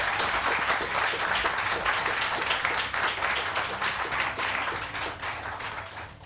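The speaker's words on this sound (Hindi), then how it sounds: "रानी आपा के लिए बहुत सारी तालियां।" A television studio audience gives sustained applause for a guest on a morning show, steady and fairly close, tapering slightly at the end.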